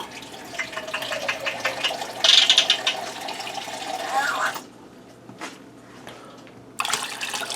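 Water streams and splashes into a large cooking pot while ham pot pie is being made, with a louder burst midway, then it stops and briefly resumes near the end.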